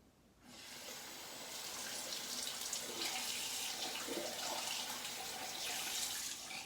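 Running tap water steadily rinses slick Williams Mug Soap lather off, a continuous close hiss of flowing water that lasts throughout with small splashing variations.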